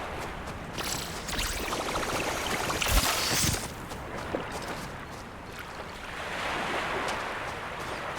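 Ocean waves in the video game Lou's Lagoon wash in as a steady broadband surf roar, swelling and easing, with a brief louder splash partway through and no talking.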